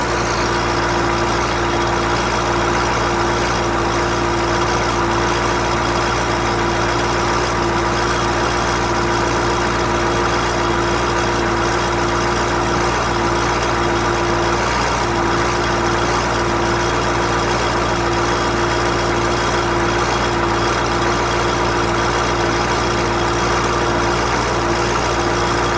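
A CUCV with a 6.2/6.5 diesel engine on fast idle while warming up, a steady loud low rumble with a constant hum, running alone for the whole stretch with no talk.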